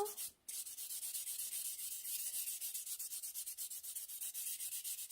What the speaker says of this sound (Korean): 샌딩 거친 표면 말고 좀 더 부드러운 표면으로 한번 더 할게요